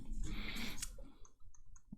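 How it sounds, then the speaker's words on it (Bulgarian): Buttons on a Rapoo 8000M Bluetooth mouse click quietly, a handful of small, sharp ticks spaced unevenly over a faint background, with no talking. "Има копчета, които съвсем тихичко щракат."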